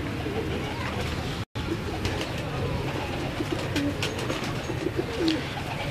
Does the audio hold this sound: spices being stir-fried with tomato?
no